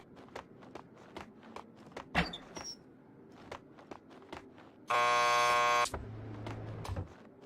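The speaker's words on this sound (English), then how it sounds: "Just press the buzzer by the door. Petersburg will buzz you in." A door buzzer in Max Payne 2 gives a loud, steady electronic drone lasting about a second, set amid footsteps, clicks and a low hum that follows it.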